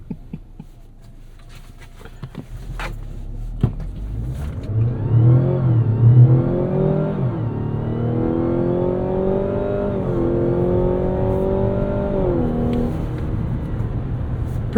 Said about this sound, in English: let's stop and do an acceleration and see how this CX-90 gets off the line